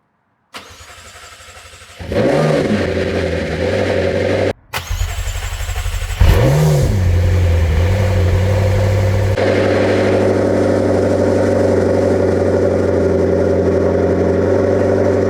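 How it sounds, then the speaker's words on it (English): A McLaren sports car engine, not run for two years, cranks and catches after a few tries, then settles into a steady, loud idle with a deep rumble. "What an absolutely incredible moment hearing this engine run."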